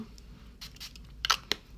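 Skincare mist pumped from a spray bottle onto the skin, two short airy hisses close by, the second sharper, in an otherwise quiet room.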